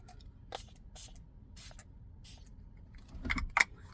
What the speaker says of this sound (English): Let's put on some body spray.